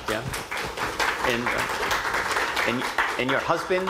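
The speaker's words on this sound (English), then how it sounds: "Let's give her a clap for that" Audience applause for a guest speaker who travelled from Pennsylvania to a talk on floriculture, a steady broadband clapping that runs the whole time beneath a man's continuing speech.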